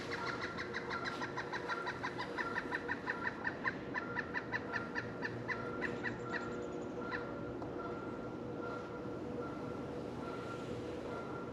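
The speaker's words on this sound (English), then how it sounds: "the Canada geese are squawking at her right now" A flock of Canada geese honks in a rapid, repeated run that rises then trails off, somewhat distant, over steady outdoor background noise at a pond.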